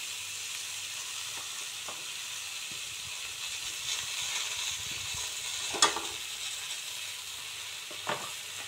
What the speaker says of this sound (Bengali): আমি সবজিকে আগে ভাজি দিলাম। ভাজার তখন মশলা দিলাইমু। আমি দেবো জিরা